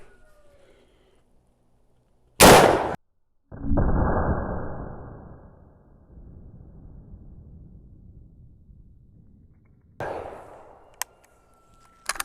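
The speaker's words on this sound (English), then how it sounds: "And then we're going to put the 350 grain bullet in there and shoot a little bit to the right" A 45-90 rifle fires 350-grain Barnes Buster bullets into hard oak outdoors, producing loud, sharp blasts with a trailing rumble and quieter gaps between shots.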